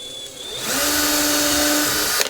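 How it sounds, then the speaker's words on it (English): A power drill whirs up to speed and holds a high, steady whine as it bores into material, loud and close. "you'll pre-drill your hole with the normal drill bit"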